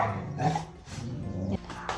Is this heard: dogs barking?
yes